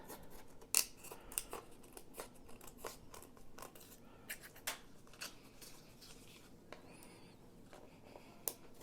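Scissors snip repeatedly while trimming the bamboo-sheath wrapping of a baren, a Japanese woodblock printing tool, with sharp, close crisp cuts at irregular intervals over a quiet background.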